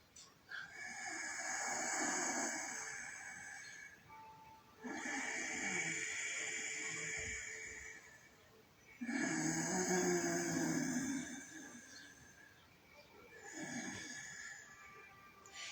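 Ujjayi-style yoga breathing through the nose with a constricted throat, slow ocean-like hissing breaths in four long cycles, close and fairly loud with a faint snoring rasp, part of chair yoga practice.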